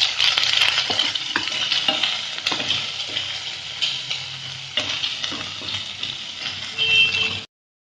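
Spices with Kashmiri and dried red chilli powder being stir-fried in a pan for ghugni, a continuous close sizzle broken by repeated scraping stirs, with no one talking.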